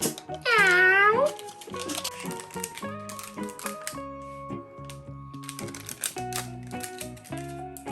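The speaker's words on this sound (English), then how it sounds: "It's a cat!" A toy cat from a surprise egg meows once, loud and close with a rising-falling wail, followed by a stretch of light clicking and tapping taps, with no talk.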